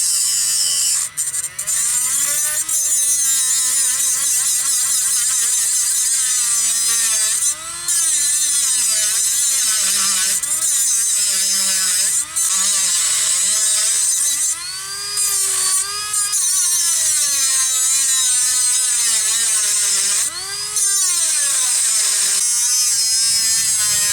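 A power cutting tool slicing through a car's front stabilizer link on a Cobalt SS, a continuous high-pitched whine that wavers in pitch as the blade bites, with brief dropouts where the cut pauses.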